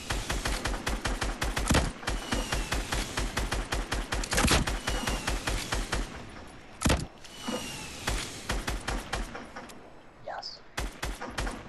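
Rapid bursts of video game gunfire crackle in dense, overlapping volleys during a multiplayer match, with sharp single shots standing out and a brief lull near the end before firing resumes.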